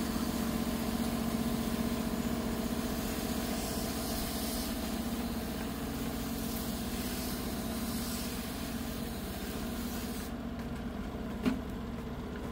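An air conditioner unit runs in high heat, its motor vibrating hard from low supply voltage: a steady, continuous droning hum with a rough buzzing rumble underneath, holding level throughout with no voices.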